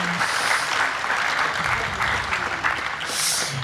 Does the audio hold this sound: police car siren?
no